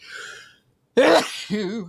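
A short breathy intake is followed by a sharp, loud sneeze up close, then a brief voiced exhale.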